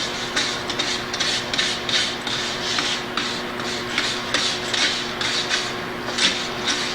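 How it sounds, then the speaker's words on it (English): Rust being scrubbed off a weathered cast spoke wheel hub, repeated rhythmic rasping strokes close up over a low background hum. "You want to clean that rust off of there."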